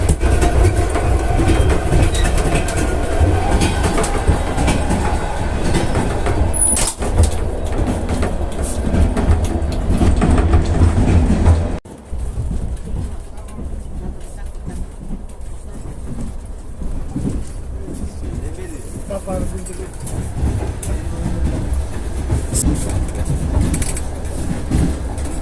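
A passenger train wagon rolls over the rails on a cold winter journey from Bishkek to Samara, a steady close rumble with rhythmic clatter. It quiets and softens partway through, then continues evenly.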